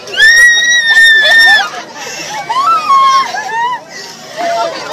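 A girl screams with joy at a surprise party as a soldier returns home, a long, loud, high-pitched shriek followed by further excited cries over lively crowd chatter and hubbub.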